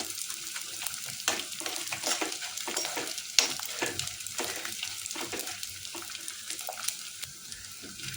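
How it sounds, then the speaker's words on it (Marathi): Edible gum (dink) puffs up as it fries in hot oil, giving a steady, moderately quiet sizzle with a fizzy crackle and brief sharper pops. "डिंक मस्त फुलून वर आलाय. थोडं अजून व्यवस्थित त्याला करून घ्यायचं"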